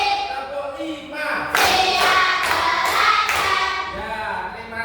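Rhythmic group hand clapping fills a classroom, a handful of crisp, evenly spaced claps following a stretch of spoken chanting, with voices continuing beneath.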